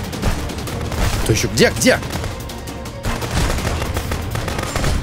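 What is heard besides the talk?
gunfire from a video game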